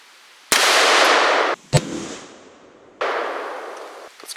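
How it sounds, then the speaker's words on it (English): A .500 Smith & Wesson revolver fires a 400-grain jacketed soft point round at a light steel target outdoors. A loud, sharp blast is followed by a long, reverberating roar and a further sharp crack. "finally we have the 500 Smith & Wesson with a 400 grain jacketed soft point bullet"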